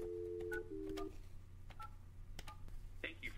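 Telephone keypad dialing tones as a call is placed to iPage web hosting phone support: a quick series of DTMF beeps over a steady low hum, followed by higher ringing tones near the end.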